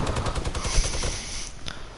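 Rapid gunfire in a video game: a dense, steady stream of loud automatic shots rattling without pause for about two seconds, fairly close and harsh.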